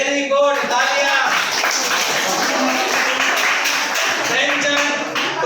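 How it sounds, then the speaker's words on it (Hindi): Students in a classroom break into a round of clapping, a steady dense patter of hands that lasts throughout, with voices talking over it. "तालियां।"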